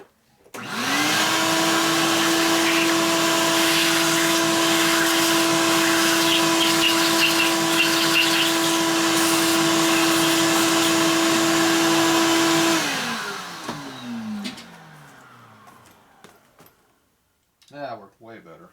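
Vacuum suction used on the cam cover area of a 1946 Harley-Davidson 84ci stroker knucklehead engine during a rebuild: a loud, steady motor drone that spins up, holds for about twelve seconds, then winds down, followed by small handling noises.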